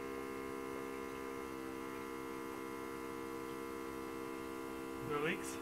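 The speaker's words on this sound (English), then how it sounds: "Pumps pumping. Transferring from auxiliary tank to the main tank." A fuel pump transferring fuel from an auxiliary tank into the main tank produces a steady, faint electrical hum with a constant tone, and a brief rising sound near the end.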